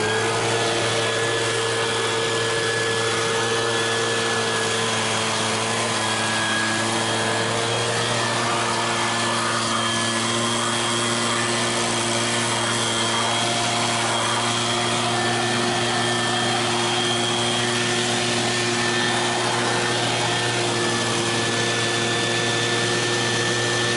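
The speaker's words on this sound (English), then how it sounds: "we finally broke out the leaf blower and got most of it out" A loud motorized machine drones continuously with a steady whine and low hum, unchanging throughout, like a leaf blower running nearby.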